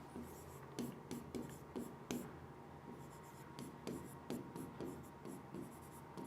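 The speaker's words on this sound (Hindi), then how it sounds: "लिख देती हूँ" Pen scratching across paper in repeated short strokes, steady and fairly close, with soft pauses between bursts of writing; no voices.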